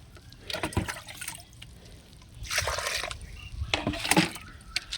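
Water drains out of a freshly watered plant pot, trickling and dribbling softly in uneven spurts, close by and fairly quiet, with faint splashing and no talking.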